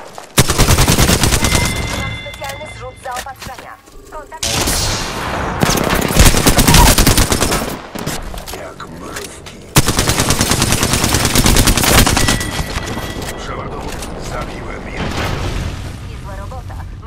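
Sustained automatic gunfire in Apex Legends rattles loud and close in long bursts with brief gaps, mixed with heavy booms and a voice talking over the shooting.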